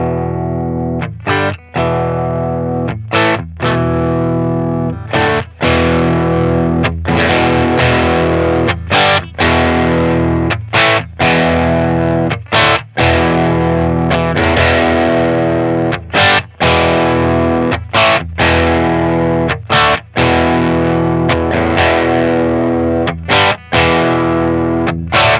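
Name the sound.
electric guitar through Boss Katana amp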